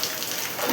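Heavy nighttime downpour in Sarkhej, heard as a dense, steady hiss of rain that stays even and fairly loud through a brief moment, with no voices.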